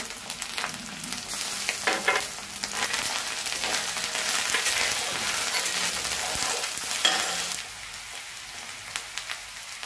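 Ginger and garlic paste sizzles in hot oil in a pan while being stirred for restaurant-style chicken biryani. A steady, crackling hiss runs throughout, with occasional scraping stir strokes and no talking.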